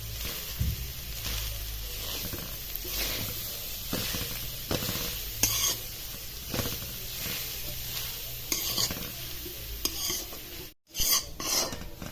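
Grated coconut roasts in ghee while being stirred steadily, a continuous close dry rasping sizzle with repeated scraping strokes throughout and a brief drop near the end.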